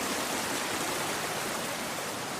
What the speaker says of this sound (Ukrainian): Гарно бурлить річка.